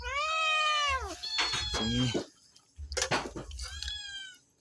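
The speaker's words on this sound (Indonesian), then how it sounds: "Oh kucing." A cat gives several loud, drawn-out meows close by, with a long wavering cry followed by shorter calls and brief pauses between them.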